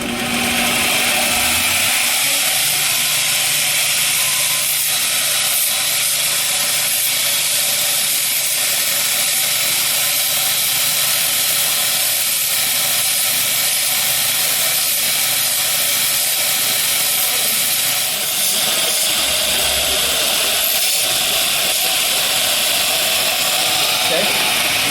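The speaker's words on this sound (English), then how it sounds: "I hope this isn't too loud with the grinder going into the mic." A grinder works on a crack repair in a horse's hoof wall, giving a loud, continuous hissing whine that runs almost without a break. A voice speaks over it.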